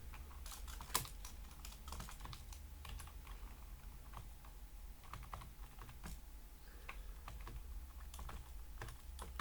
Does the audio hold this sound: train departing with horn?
no